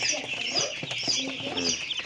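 Andijan black chickens on a small farm, soft close clucking and chirping from several birds in a continuous jumble.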